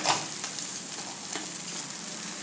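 Grated potatoes sauté over low gas in a pan, giving a steady soft sizzle with faint stirring rustles, close and uninterrupted, with no voices.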